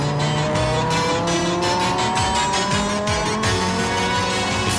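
An Audi Quattro race car with a turbocharged five-cylinder engine makes a qualifying run on the Long Beach street circuit, heard as a loud onboard engine drone with rising and falling revs, shifts and tire noise throughout.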